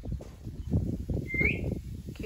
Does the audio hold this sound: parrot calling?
yes